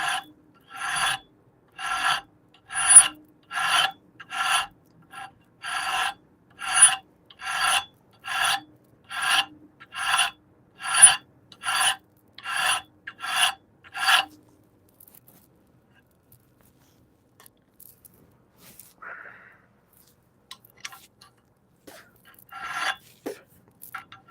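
A hand file rasps across a hand-forged Bowie knife blade in a forge workshop, with about fifteen loud, even back-and-forth strokes in a steady rhythm, then near quiet with a few faint scrapes.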